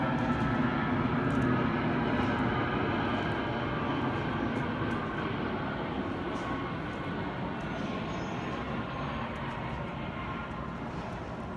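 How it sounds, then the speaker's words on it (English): An airplane flies overhead near a home, a steady broad roar that holds loud throughout and fades only slightly toward the end, with no talking over it. "Trying to wait for that airplane to fly over"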